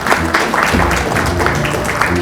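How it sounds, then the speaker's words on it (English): An audience at the Marine Memorial Hotel applauds a presentation speaker, a short burst of close clapping mixed with murmuring voices. "a round of applause for Jim Handura"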